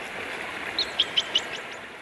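Several short, bright bird chirps come one after another in a quick series at a riverside, heard over a steady wash of gently flowing water and a light breeze.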